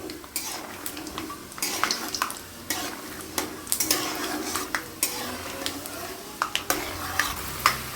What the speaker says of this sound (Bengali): এবার আমি কাঁচা বাদামগুলো দিয়ে দিলাম কড়ার ভিতর